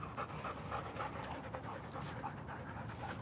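A Belgian Malinois pants steadily and rapidly up close, a continuous breathy rhythm that stays fairly quiet throughout, with no speech.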